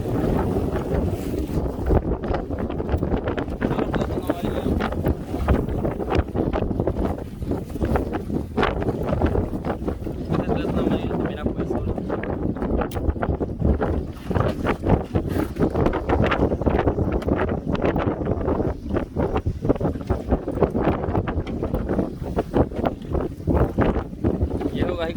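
Strong wind blows across a fishing boat at sea, a steady, loud broadband roar with buffeting against the microphone that runs continuously throughout, with a voice occasionally speaking over it.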